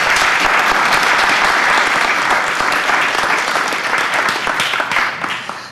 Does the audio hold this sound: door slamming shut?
no